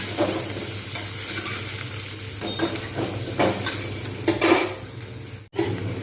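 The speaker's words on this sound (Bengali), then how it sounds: "একসঙ্গে ভাজা হয়ে যাবে পেঁয়াজ এবং আলু" Onions and potatoes fry together in oil in a pan, with a continuous loud sizzle broken by repeated stirring scrapes and light clinks of a utensil against the metal.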